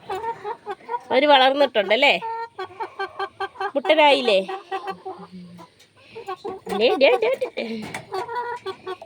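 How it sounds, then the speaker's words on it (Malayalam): Hens and young chicks cluck in bursts, close by and fairly loud, while a person talks over them. "എൻ്റെ കോഴിപ്പിള്ളേരെയൊക്കെ കണ്ടോ"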